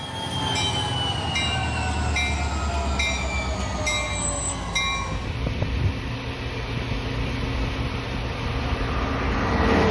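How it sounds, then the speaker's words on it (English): A CSX locomotive-hauled train passes close by, loud and continuous rail rumble with wheel squeal tones sliding downward over the first half, then steady rolling clatter throughout. "Is this normal behavior for a CSX locomotive, or is something going wrong here?"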